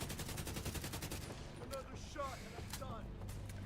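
Rapid automatic gunfire rattles in a steady burst for about a second during The Division 2, then gives way to quieter scattered game sounds and faint tones.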